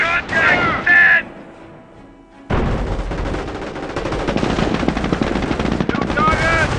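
Battle sounds in the Company of Heroes video game: rapid machine-gun bursts rattle loud and close, broken by a brief quiet gap, then a sustained barrage of gunfire alongside shouted voice lines.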